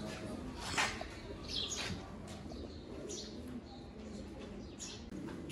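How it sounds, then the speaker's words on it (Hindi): Soft cooing and a few chirps from red-eyed pigeons over a noisy background hum, with faint voices nearby. "बहुत शानदार ब्रीड है कबूतर।"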